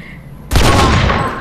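A sudden loud burst of gunfire erupts in the GTA video game, a dense sustained volley of shots ringing on for about a second after a quiet lead-in.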